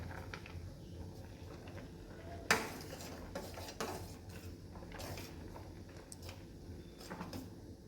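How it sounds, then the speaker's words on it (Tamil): A spoon stirs vermicelli payasam in a metal pot, with soft scraping and one sharp clank against the rim early on, then quieter stirring scrapes over a low background. "இறக்குற வரைக்கும் நான் கலருவேன்"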